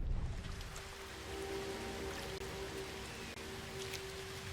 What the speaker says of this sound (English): It's a rainy, rainy mess.